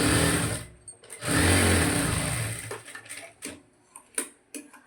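A sewing machine stitches along a blouse neckline in two long, steady whirring runs, then slows into short separate bursts and clicks as the needle stops and starts.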